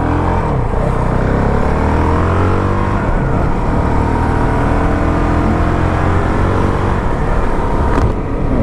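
A 2019 Honda CRF450L dual-sport motorcycle engine revs hard on the throttle through a wet ride, loud and close with rising and falling pitch, wind buffeting the mic throughout.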